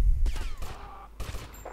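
Rapid bursts of gunfire from a firefight in the video game Grand Theft Auto: Vice City, with several loud, close shots and volleys clustered across the short clip.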